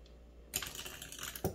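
Backgammon dice are tossed into a baffle box, giving a sudden burst of rapid rattling clatter as they bounce and settle, then a short sharp knock near the end, close by and without talk.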